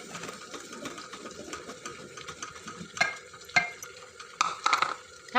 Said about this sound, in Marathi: आपलं पाणी उकळलं, आता पीठ टाकून घेऊया.